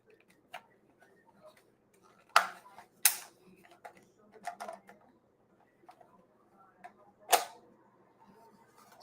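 A Re-Ignition Blade Blaster toy blade clicks as it is extended, producing a few sharp, close plastic clicks and snaps separated by quiet handling noises.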